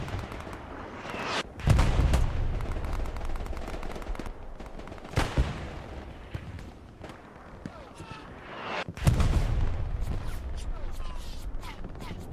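Gunfire in the WWII video game Hell Let Loose, including machine gun bursts during a competitive match, with sharp loud shots around 1.5, 5 and 9 seconds over continuous battle noise while players talk throughout.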